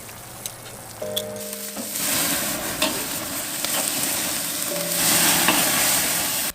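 Meat sizzles loudly and steadily on a BBQ grill as it is flipped after ten minutes of cooking, with a few sharp clicks and scrapes over the continuous frying hiss.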